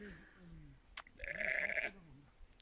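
A sheep bleats once, loud and close, with a wavering tone, after a sharp click and over faint background noise; the sheep is about to give birth.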